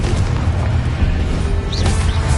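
Constant loud booming roar from the Confringo fire spell in Hogwarts Legacy on PS5, a dense sustained blast texture with no talking.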